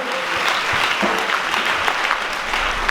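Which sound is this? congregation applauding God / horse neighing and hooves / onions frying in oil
congregation applauding God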